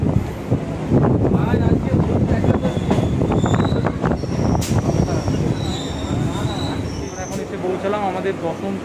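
A Howrah to Bandel local train runs along the line, with loud rumbling wheels, rhythmic clatter over rail joints, wind rushing past, and thin squeals from the wheels near the end.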